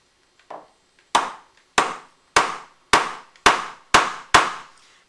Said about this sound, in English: So I'm going to take a chisel and see if I can trim off a little bit